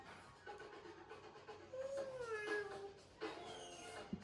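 A child imitates a cat with faint, wavering meows and mewling sounds, a couple of rising and falling cries over soft background noise.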